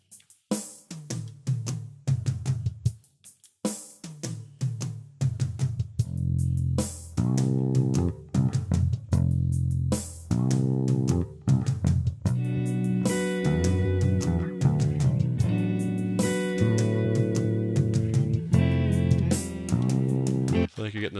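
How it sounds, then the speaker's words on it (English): Looped drum groove joined in turn by fretless bass and a tremolo-effected guitar, layering up into a dense, continuous music bed with chord changes, loud and upfront with no talking. "So I've got the drum and then the bass and then the guitar all coming in one after the other."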